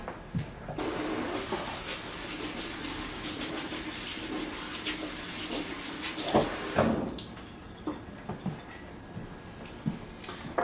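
Tap water runs steadily onto cauliflower for several seconds, a broad close hiss that suddenly stops, followed by soft knocks and handling sounds.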